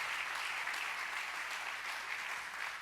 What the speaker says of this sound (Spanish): Dale un buen aplauso porque Él es merecedor de toda gloria.